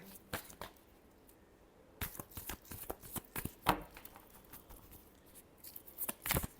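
A deck of tarot cards is shuffled by hand in quick, crisp riffling bursts with short pauses between them, quiet and close.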